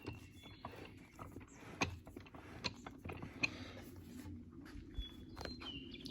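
The output shaft of a 1992 Dodge Dakota LE transmission is turned by hand, giving sparse metallic clicks and light gear rattles scattered over a quiet, faint background with no talking.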